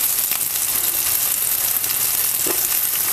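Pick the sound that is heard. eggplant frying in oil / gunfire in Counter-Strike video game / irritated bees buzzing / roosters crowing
eggplant frying in oil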